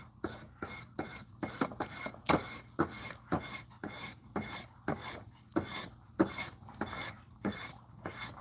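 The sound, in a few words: knife being sharpened on a 12,000 grit whetstone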